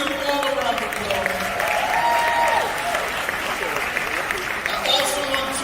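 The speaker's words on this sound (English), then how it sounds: "Let's give them all a round of applause." A crowd at a morning show gathering claps steadily for several seconds, dense and even, with faint voices mixed into the applause.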